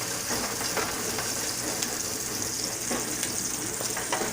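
Onions fry in a pan for Filipino bihon rice noodles with a steady, even sizzle and scattered soft crackles, moderately quiet and with no talking.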